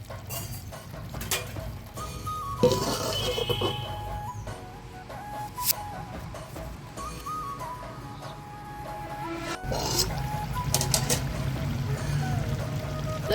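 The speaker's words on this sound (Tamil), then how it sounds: "தண்ணி இவ்வளோ ஊற்றுனீங்கன்னா போதும்" Water pours steadily into a cooking pot of pepper chicken, a continuous trickling wash with faint clucking poultry in the background; no talking.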